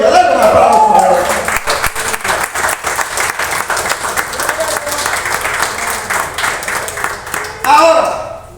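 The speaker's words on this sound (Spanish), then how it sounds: "Dale un aplauso a Él." A congregation claps together during a Wednesday evening church service, a loud, dense wash of applause that runs the whole length, swelling again near the end, with voices mixed in.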